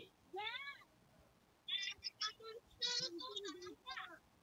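A cat meows in a quiet indoor setting, a rising call followed by a series of short voiced sounds, faint and close, with no other sounds around it.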